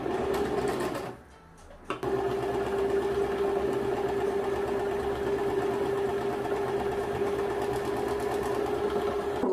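A sewing machine stitches along the edge of a hat with a loud, steady mechanical whir close by, briefly dropping out for about a second before resuming and running evenly.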